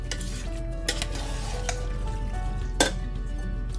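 A creamy cheese sauce with milk is stirred in a pan, a soft simmering sizzle broken by a few sharp clinks of a utensil against the pan, with no talking.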